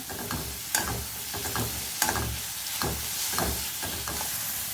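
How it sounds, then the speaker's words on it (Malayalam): Chopped pumpkin flowers sizzling in a hot pan while being stirred, a steady close frying hiss broken by repeated scraping stirs at roughly one-second intervals. "ഇതിലേക്ക് നമുക്ക് അരിഞ്ഞു വെച്ചിരിക്കുന്ന മത്തൻ്റെ പൂവ് ഇട്ട് കൊടുക്കേ. ഒന്ന് ചെറുതായിട്ട് ഇളക്കി കൊടുക്കേ."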